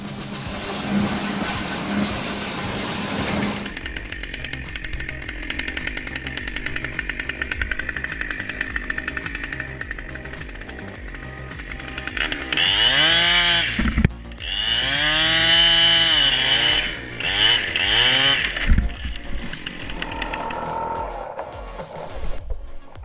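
A big chainsaw cuts into a tree, its engine revving and bogging in repeated surges, loud and close, with a short steady mechanical hum at the start.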